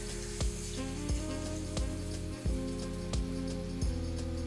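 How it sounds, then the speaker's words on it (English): Continuous sizzling of T-bone steak frying in hot oil in a pot over medium flame, a steady crackling hiss with periodic soft clicks, close and moderately quiet. "You want to hear that sizzling sound?"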